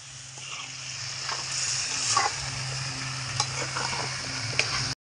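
Pork and potato pieces dry frying in a wok keep up a constant close sizzle, broken by scraping stirs and a few sharp utensil knocks before stopping abruptly.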